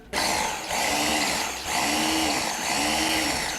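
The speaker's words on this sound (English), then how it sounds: "So pulse it lightly." A food processor pulses a coarse chickpea falafel mixture in loud, steady whirring bursts with brief dips between pulses, close up and without talk.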